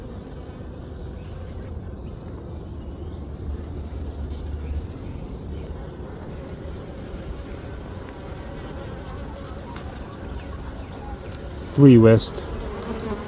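Honey bees hum in a steady, dense drone throughout a winter beehive inspection, with a man calling out frame counts over the buzz and a brief louder thump near the end.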